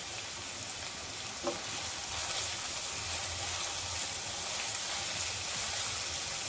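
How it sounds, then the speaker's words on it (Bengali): Chopped onions, green chilies, bay leaf, cardamom and cinnamon fry in oil in a pot for a homestyle deshi chicken and potato curry, giving a steady close hiss with one brief click early on. "পেঁয়াজ হালকা করে ভেজে নেব"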